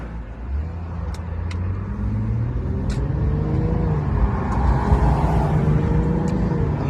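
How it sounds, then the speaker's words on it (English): Interior of a Nissan 350Z on a test drive after repairs for P1752, P1769, P1757 and P1744 codes, with a loud steady engine drone and rising gear pitch as it accelerates, plus occasional ticks. "we're gonna go ahead and take it on a test drive"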